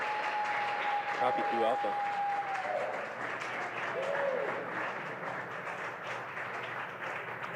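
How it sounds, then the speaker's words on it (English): A crowd cheers and applauds at a SpaceX Falcon 9 crew launch, a continuous roar heard alongside a radio voice giving a brief mission callout. "the cheering behind me"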